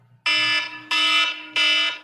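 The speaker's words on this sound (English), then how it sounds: "Was that lovely alarm right in my ear?" An electronic alarm beeps loudly three times in a steady rhythm, each tone lasting about half a second, sounding close by and harsh during a Nintendo Switch CPU reball repair, with no speech over it.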